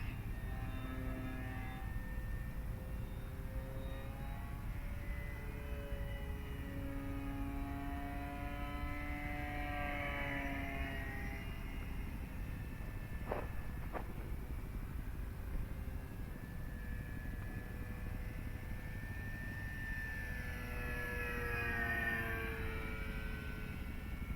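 An E-flite Decathlon RC model propeller plane drones steadily overhead, its engine pitch rising and falling as it circles, with no one talking.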